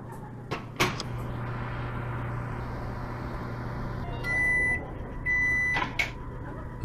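Microwave oven in the Job Simulator video game kitchen: a door clunks shut and thumps, a low steady hum runs, then two electronic beeps sound before a final click.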